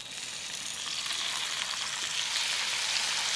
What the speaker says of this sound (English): frying some potatoes in Spam fat and golden butter